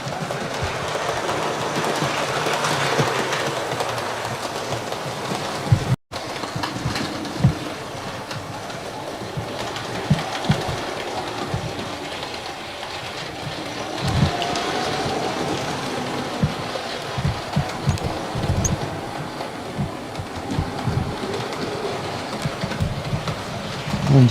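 An Accurascale Manor model locomotive runs into a model railway station, giving a soft, continuous rolling hum with light clicks from the wheels over the track joints, heard close and alone.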